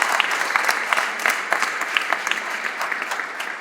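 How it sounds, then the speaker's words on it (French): A crowd at the inauguration of Henry Fabre's Canard seaplane at an aeronautics museum claps for a volunteer team, sustained, evenly textured applause from many people, close and continuous. "Je vous demande d'applaudir M. Raquin et toute son équipe de bénévoles."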